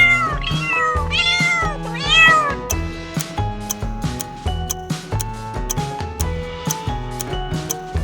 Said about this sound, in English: Cat! Correct!